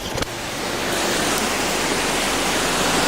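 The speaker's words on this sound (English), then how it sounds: "Yeah, how high the river is." High, fast-flowing river in Holly River State Park rushing under a bridge, a loud, steady broadband roar of water with a brief knock at the start.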